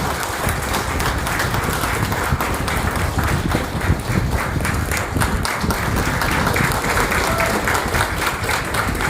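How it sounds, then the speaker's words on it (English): A courtroom audience at a High Court chief justice's farewell breaks into dense, sustained applause, loud and steady throughout with no pause. "I request everybody to give a big round of applause"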